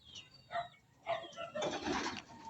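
Pigeons in a loft give soft, repeated coos and call notes at close range, with a faint flutter of wings now and then.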